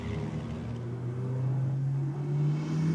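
Drag racing G-Pack car rated just shy of 800 horsepower at the tyres launching down the strip, a loud, steady low engine roar building and holding without talk.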